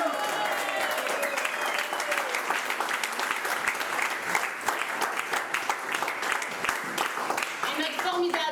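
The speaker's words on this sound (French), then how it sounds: "Et un gros applaudissement pour Louis-Marc," Audience applause for Louis-Marc, an injured cast member, at the curtain call of a French stage play: dense, steady clapping fills the whole stretch at a constant level, with cheers and voices mixed in.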